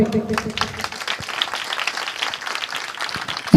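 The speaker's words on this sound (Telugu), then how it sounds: "మీ చప్పట్లు చప్పగా ఉన్నాయమ్మా" A church congregation at a Telugu Catholic worship service claps together in a dense, steady burst of applause lasting a few seconds, fairly loud and without talk.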